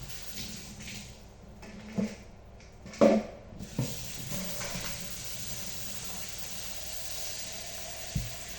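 Chicken wings and potatoes frying in oil, a steady soft sizzle with a few clinks and bumps of cookware early on, no talk over it.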